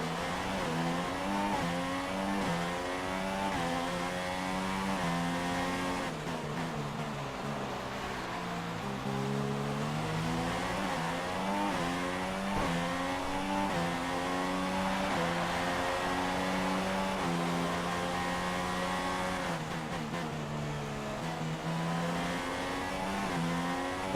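Formula 1 race car engines from the F1 2016 video game scream continuously at high revs, rising and falling through gear shifts as cars race around the track, loud and steady throughout.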